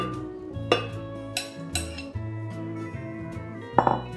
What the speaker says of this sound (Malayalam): ഈ പൈനാപ്പിൾ ഈ മിക്സിക്കകത്തോട്ട് ഈ ജാറിലേക്ക് ഇടാം